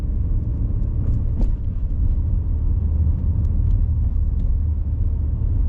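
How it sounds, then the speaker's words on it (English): A car engine runs at steady revs while driving on a test route in Leeds, a continuous loud low rumble with road noise and no talk. "my car is revving, she wants the higher gear"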